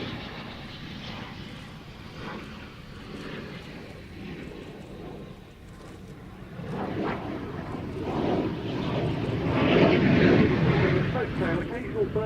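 Polish fighter jet flying a slow-speed, high angle of attack pass, a continuous roaring engine drone that swells louder with occasional bursts of power toward the end, heard with a voice talking over it.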